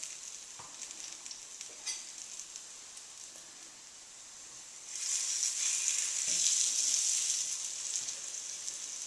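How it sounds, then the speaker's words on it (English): Sprouted aduki bean and ginger burgers sizzling in hot oil, a steady close crackle that swells louder midway as a burger is turned, with faint scraping of a fish slice and no talking. "they've probably been frying for maybe 2 to 3 minutes on that side"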